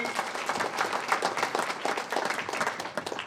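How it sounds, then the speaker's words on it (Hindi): A crowd at a family gathering applauds in welcome, dense and sustained clapping from many people throughout, fairly even in level and heard close without talk over it. "इनके स्वागत में एक बार जोर से सभी तालियां बजाएंगे।"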